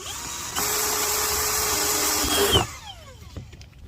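A power drill whirs steadily for about two seconds, biting through the hull of an Old Town Predator PDL kayak, then winds down as the motor spins to a stop.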